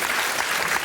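An audience at a Laurent Baffie comedy show claps in a dense, steady burst of applause that fills the room for under a second.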